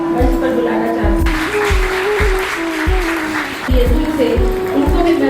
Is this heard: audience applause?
yes